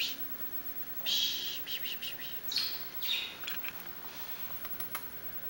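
Birds chirping outside in quick, high tweets that come in clusters and scattered single calls, fairly close but not loud, over a quiet steady background with no speech.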